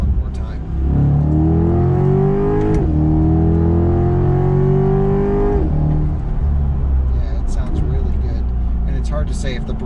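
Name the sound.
Corvette C8 Z51 6.2 V8 engine revving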